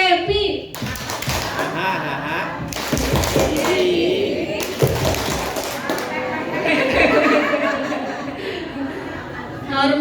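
An audience does rhythmic 'tepuk happy' clapping in bursts of patterned claps and taps, mixed with chatter, laughter and a voice throughout.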